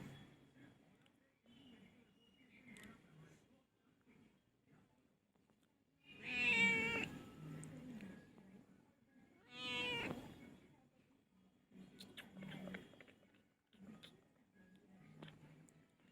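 Pet cat Chingri meowing indoors, a couple of loud drawn-out meows standing out amid quieter household sounds and a voice nearby.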